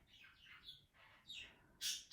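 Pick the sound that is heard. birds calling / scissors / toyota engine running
birds calling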